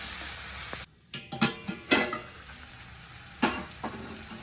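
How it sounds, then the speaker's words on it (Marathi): Onion and tomato frying in a pan make a steady sizzle, cut by several scraping stirs of the spoon and a brief quieter moment, all close by with no voices. "आता एक दोन मिनटं आपल्याला असं खालवून घ्यायचं म्हणजे टमाटो मऊ होईल"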